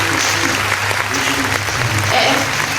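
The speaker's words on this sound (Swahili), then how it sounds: "Mpigieni makofi na yeye mengi." Classroom of students claps in a dense, sustained burst of applause lasting throughout, loud and close, with voices mixed in beneath the clapping.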